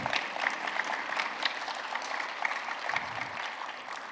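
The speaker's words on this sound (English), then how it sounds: "Give them a round of applause" Keynote attendees at a developer conference clap for the winner of a community award; brisk, moderately loud applause with a few sharper claps, fading slightly toward the end.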